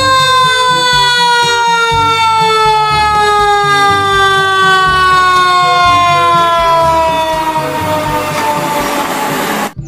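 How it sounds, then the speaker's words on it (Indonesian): A toy fire truck siren wails loudly and steadily up close, a repeating electronic tone pattern with a beeping rhythm underneath, alone without talk. "Yang ini ada mobil pemadam kebakaran."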